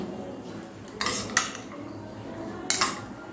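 A metal utensil clinks and scrapes against a bowl while semolina breakfast ingredients are mixed, with two louder bursts of clatter over a quiet background.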